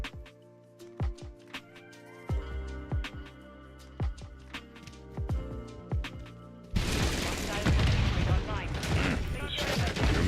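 Video game P90 submachine gun from Call of Duty firing in short bursts, sharp repeated shots spaced across the first several seconds, then a dense, loud wash of gunfire and explosive noise taking over near the end.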